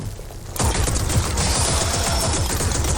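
The Manticore weapon in The Cycle fires a sudden, loud, rapid stream of bursts that starts after a brief quieter moment and keeps rattling steadily to the end, with no voices.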